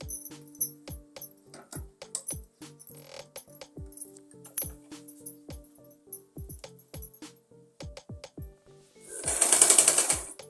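Domestic sewing machine stitching the shoulder seam of a girl's umbrella frock over buckram, running in repeated short bursts of rapid mechanical clatter, close and clear, with a louder, denser hiss-like stretch of stitching near the end.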